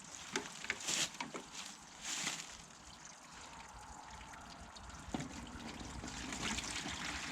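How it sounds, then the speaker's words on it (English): Spring water trickles through a pre-filter into a bucket, a soft, steady dribble with a few louder splashes and sloshes near the start. "I'm just going to go ahead and pre-filter this water."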